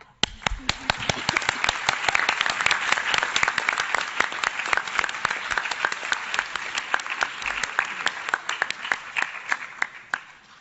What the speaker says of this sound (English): Just all clap.